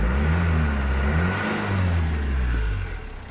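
SsangYong Korando car engine revving steadily up and down at close range, a continuous low droning hum with mild swells, easing off near the end, with no talk.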